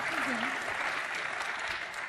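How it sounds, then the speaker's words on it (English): Audience applause at a TU Delft best graduate award ceremony, a steady, moderate wash of clapping from a crowd that carries on evenly throughout. "It's an applause already."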